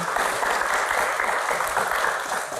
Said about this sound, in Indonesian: tepuk tangan dong buat Mas Adi